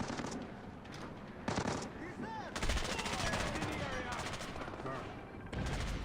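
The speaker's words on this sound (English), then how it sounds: "Again, some shooty action." Gunfire in the stealth action game Splinter Cell Blacklist during a co-op missile control mission: bursts of rapid shots and single cracks over a busy combat backdrop, fairly quiet overall.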